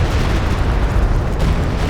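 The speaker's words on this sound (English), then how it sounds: "Stuka dive bomb on the M1. There's another walking Stuka barrage." Loud, dense explosions from a walking Stuka dive bomb barrage in Company of Heroes 2, a continuous rumbling roar of overlapping blasts with no pauses.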